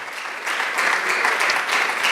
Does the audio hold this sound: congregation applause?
yes